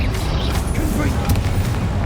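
A Confringo spell blast from the video game Hogwarts Legacy: a heavy, booming explosion with crackling bursts layered over a dense, continuous rumble, loud and close throughout.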